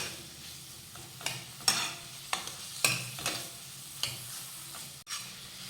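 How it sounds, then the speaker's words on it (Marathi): Ginger garlic paste and onion sautéing in a pan, with a steady soft sizzle and repeated scraping stirs of a spoon, several of them sharp and close, heard alone. "यामध्ये एक चमचा आलं लसूण पेस्ट घालूया आणि कांद्यासोबत परतून घेऊया"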